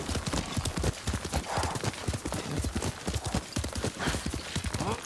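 Horse hooves clip-clop steadily in Ghost of Tsushima, a close, brisk rapid rhythm of hoofbeats with a brief whinny mixed into a busy outdoor backdrop.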